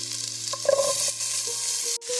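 Green beans sauté in a hot pan, sizzling steadily under stirring clatter, with a few sharp scrapes and knocks of a utensil against the pan.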